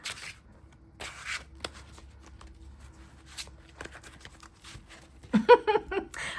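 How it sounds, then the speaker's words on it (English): Tarot cards being overhand shuffled by hand in a few bursts of quick, papery riffling and tapping, with short pauses between, close and fairly soft. "Oh, my shuffling skills are minimal."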